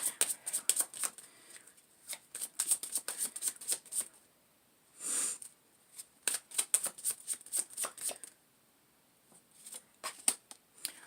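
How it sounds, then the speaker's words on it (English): A deck of tarot cards is shuffled by hand in quick, crisp riffling bursts with short pauses between them, close and fairly quiet, and no one speaks. "the King of Cups fell out, but I'm going to pull one more card here"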